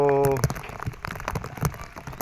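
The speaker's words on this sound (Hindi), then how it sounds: "बारिश चल रही है" Rain falls in a Sindh village, with a dense patter of drops on surfaces that follows a brief voice at the start.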